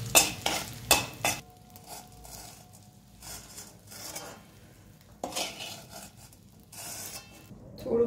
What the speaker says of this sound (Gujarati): ચણાના લોટને શેકીશું